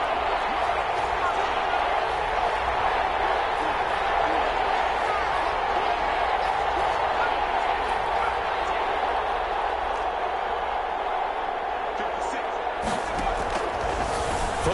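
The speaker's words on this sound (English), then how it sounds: "the crowd getting into it as we come up on a big third down" A stadium crowd in a football video game keeps up a continuous, loud wash of cheering and roaring that builds steadily before a big third down, with a few sharper shouts near the end.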